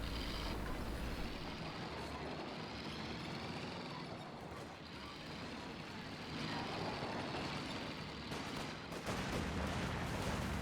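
Universal Carrier machine gun fire rattles through a Company of Heroes 2 battle as continuous dense gunfire and rumbling vehicle noise, loud and sustained with no pauses.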